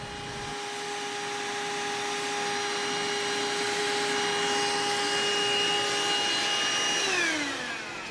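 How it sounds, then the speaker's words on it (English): A vacuum cleaner in a model ship workshop switches on with a rising whine, then holds a loud, steady tonal drone before spinning down near the end. "Now, where's my vacuum cleaner?"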